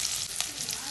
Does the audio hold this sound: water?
no